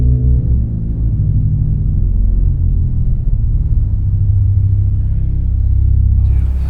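A 2013 Casavant pipe organ in a large church sanctuary in Kirkwood, Missouri, with all its 16- and 32-foot stops playing together, a deep, loud, sustained rumbling bass that fills the room.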